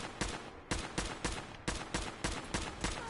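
Rapid bursts of gunfire in the video game Fallout 4, about ten sharp, evenly spaced shots over a few seconds, loud and close, with no talking.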